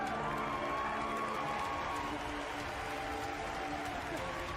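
A large audience at Bethesda's E3 2019 presentation cheers and applauds in a steady, roaring wash of voices and clapping that holds at an even level throughout.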